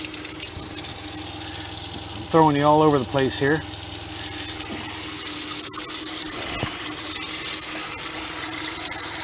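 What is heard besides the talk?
water running from a van faucet fed by a water pump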